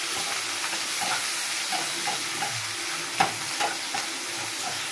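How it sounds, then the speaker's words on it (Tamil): Home-ground pepper being stirred in a frying pan for tomato kuzhambu, a steady close sizzle with soft scraping strokes of the spoon in an irregular rhythm. "வீட்டிலே அரைச்ச மிளகு நல்லா கிண்டிக்கலாம்"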